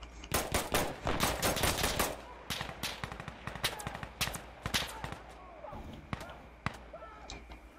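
An MG42 machine gun rattles in Insurgency Sandstorm, a fast, loud stream of shots for the first couple of seconds, then scattered shorter bursts and single cracks among other gunfire.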